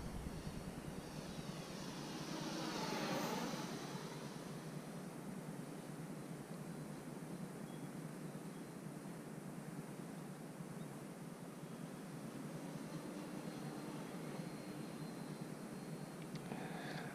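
An FMS A6M Zero 1400mm radio-controlled model plane flies overhead, its motor whine swelling into a close pass early on and then holding as a steady distant drone against wind noise.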